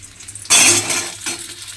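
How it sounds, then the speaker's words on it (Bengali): Diced potatoes are tipped into hot oil in a pan for an omelette curry. A sudden sharp sizzle erupts, hisses loudly, then fades, with a second smaller sizzle swelling shortly after. "সেই আলুটা আমি তেলের মধ্যে দিয়ে দেব।"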